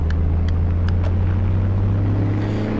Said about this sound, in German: So, man kann auf jeden Fall mal Burnouts machen.